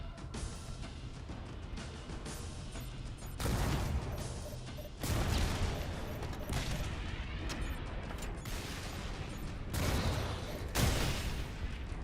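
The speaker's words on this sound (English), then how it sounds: "I'm a big fan of the explosions, though." Rocket blasts and gunfire from a Halo game, several sharp booming explosions at irregular intervals over continuous rattling combat noise, loud and dense.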